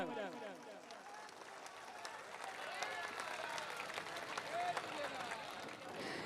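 A congregation at a Sindhi Jhulelal devotional gathering breaks into loud, sustained applause, many hands clapping together steadily for several seconds, with faint voices mixed in.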